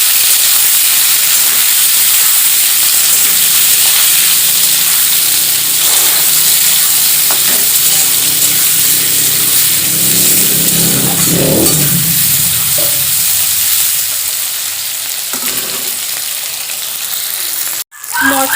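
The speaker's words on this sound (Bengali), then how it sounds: "আমি মশলাগুলো পুরো সব দিয়ে দেব তেলের উপরে দিয়ে ভেজে নেব" Whole spices frying in hot oil for a chicken dish, a loud steady sizzle across the whole stretch with occasional stirring scrapes, then a sudden drop near the end.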